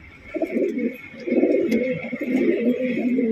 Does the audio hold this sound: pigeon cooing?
yes